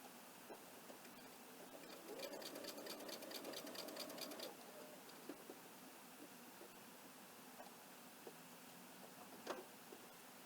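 A domestic sewing machine stitches piped binding at a quilt corner in a short, faint burst of about two seconds, followed by quiet room tone with small taps and handling clicks.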